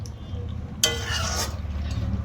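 Cooked chicken meat being stirred in a pan, a short scraping and clattering burst of utensil against metal over a low steady background hum, close and moderately loud.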